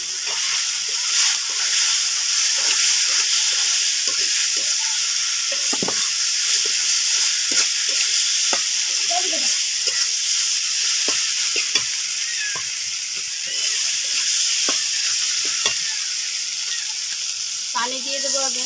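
Fish dropped into a fried spice paste in a hot pan, giving a steady loud sizzle with scattered stirring scrapes and short crackling bursts throughout.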